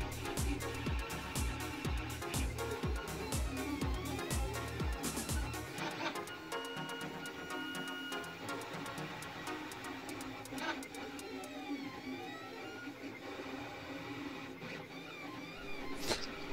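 A Creality 3D printer fitted with an MGN12 linear rail and direct extruder prints a Benchy at speed, its stepper motors whirring in rapid chirping, shifting tones with steady ticking carriage movement, close and moderately quiet.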